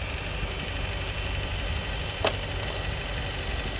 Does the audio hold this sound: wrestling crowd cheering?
no